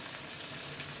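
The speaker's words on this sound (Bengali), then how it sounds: "মাছটা অনেকটা ভাজাটা হয়ে গেছে" Fish fries in hot oil for a Bengali sukto, giving a continuous, even sizzle, fairly close and steady with no voices.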